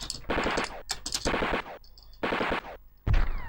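Short-range infantry gunfire in the Amiga game North & South, heard as several sharp bursts of rattling shots with brief pauses between them, then a deeper thud at the end.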